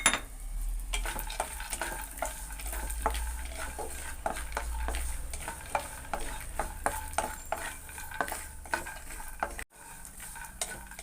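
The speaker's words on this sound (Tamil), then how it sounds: "இதுக்குள்ள நம்ம பச்சை மிளகாட்டையும் வறுத்துக்கலாம்." Green chillies roast in a pan alongside roasted gram over a medium flame for spicy kara pori, with a steady soft sizzle under repeated scraping stirs of a utensil, then a brief break near the end.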